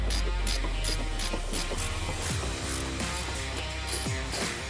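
Ratchet clicking in quick, fairly close strokes while tightening the bolts of a wing spoiler on a Kia Stinger, heard against a steady background hum.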